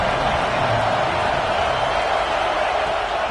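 A packed stadium crowd in the video game College Football 25 roars steadily at a big third down, a dense, loud wash of cheering noise with no breaks.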